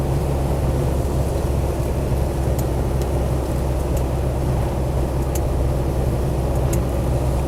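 A Land Rover Defender 90 300Tdi pickup drives along, its engine and road noise forming a steady, loud, unbroken drone with a few faint ticks and rattles on top.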